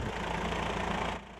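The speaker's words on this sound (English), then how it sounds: "including this high-tech tractor fitted with an oversized metal detector, computers, and GPS system" A high-tech tractor fitted with an oversized metal detector, computers and GPS runs at a bomb-clearance site in Vietnam, with a steady mid-pitched engine drone that drops away near the end.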